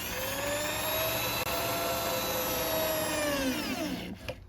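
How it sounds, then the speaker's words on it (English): Power drill driving screws into the boards of a double-stacked wooden garden bed, a steady loud whirring motor drone that holds for about four seconds, then slows and winds down with a brief clatter at the end. "now it's time to drill some screws in."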